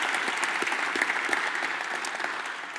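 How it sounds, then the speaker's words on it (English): A conference audience at a healthcare leadership summit breaks into sustained applause, a dense, even wash of clapping from many hands lasting a few seconds. "Let's give this panel another round of applause"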